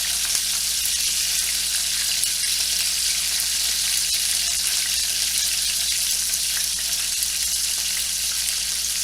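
Boneless skin-on chicken thighs, just flipped, fry in a pan with a loud, steady, hissing sizzle and fine crackling spatter that continues unbroken, close up and with no talking.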